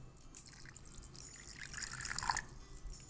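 A short trickle of water pouring into a pot, soft splashing and dribbling that swells midway then tapers off.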